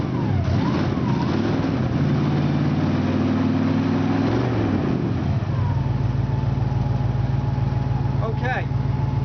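A 1963 Ford Falcon Futura with a 260 V8 cranks and catches, then settles into a steady, loud idle with a rough, even rumble close by, while a voice talks over it.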